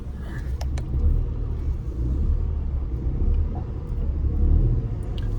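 A 2017 Renault Kwid, pre-facelift, being driven, its engine and road rumble a steady low drone heard from inside the cabin, with no talk.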